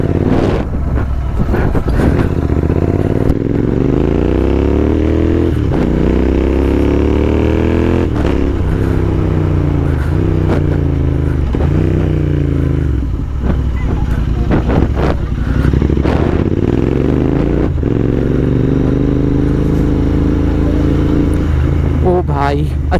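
Royal Enfield Interceptor 650 twin ridden on a busy road, its thumping exhaust climbing through repeated gear-by-gear revs, dropping between shifts and building again, loud and close, with wind buffeting and occasional talk.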